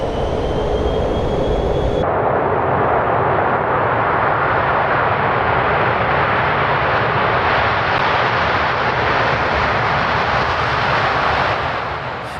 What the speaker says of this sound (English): Flight Lieutenant Tait lined up the Vulcan, applied full power to its Rolls-Royce Olympus engines, and began the takeoff roll.